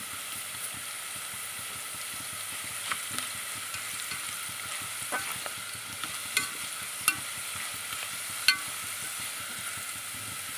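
Pepper and spices with turmeric fry steadily in a pan for moong dal pongal, a continuous close sizzle with faint stirring scrapes and occasional small pops, no voices.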